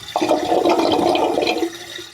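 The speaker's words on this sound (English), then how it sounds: "If your drains gurgle, something is struggling." Running water starts abruptly in a household drain and surges into a loud, steady gurgling rush that eases off toward the end, with no one talking.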